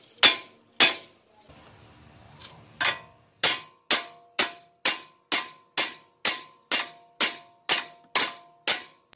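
Loud metallic hammer strikes on a steel car suspension part during bushing and ball joint replacement ring out, a couple at first, then a pause with faint noise, followed by a steady rapid series of blows.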